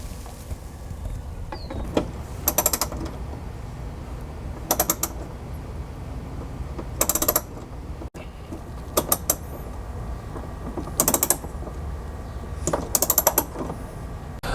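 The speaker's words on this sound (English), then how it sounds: "So we're going to start by unbolting the license plate" Ratchet wrench unbolting a car license plate, with short bursts of quick ratcheting clicks repeating every couple of seconds over a low background hum, close and fairly clear.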